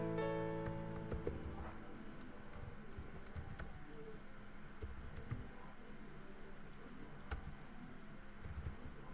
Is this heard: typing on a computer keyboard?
yes